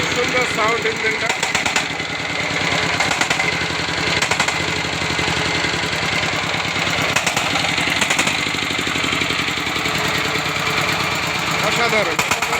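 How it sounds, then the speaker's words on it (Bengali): Close up, a Sifang 25 HP power tiller diesel engine idles with a loud, even, rapid knock and metallic vibration, running continuously. "খুব সুন্দর সাউন্ড ইঞ্জিনটা।"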